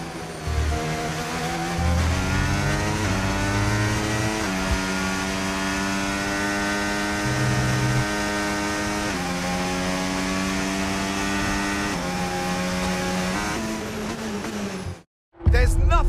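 Race cars in the F1 25 video game scream past with rising and falling harmonic engine whine, steady and loud for about fifteen seconds, cutting out briefly near the end before resuming.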